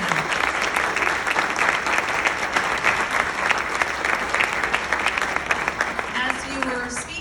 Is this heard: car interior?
no